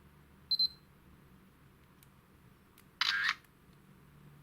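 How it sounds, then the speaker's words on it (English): A Samsung S1065 digital camera gives a brief electronic focus beep, then a short mechanical-style shutter sound a few seconds later, faint and close in a quiet room. "The one thing I like about these old cameras is the noises they make."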